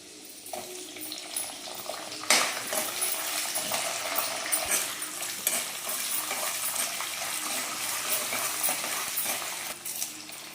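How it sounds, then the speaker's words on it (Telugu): Cumin seeds and mustard seeds frying in a pan for lemon pulihora give a sharp sizzle, which starts quiet, then swells into steady crackling with scattered pops and clinks, close and unaccompanied by speech. "జీలకర్ర బాగా ఫ్రై చేసుకోవాలి"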